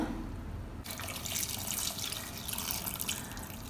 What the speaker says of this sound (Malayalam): അത് ഞാൻ വെള്ളം ഒഴിച്ചു കൊടുക്കുകയാണ്